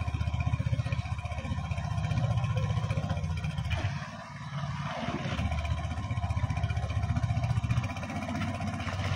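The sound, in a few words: motor boat with a 7.5 horsepower engine running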